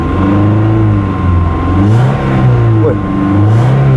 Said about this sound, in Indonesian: start engine-nya. Mantap, start engine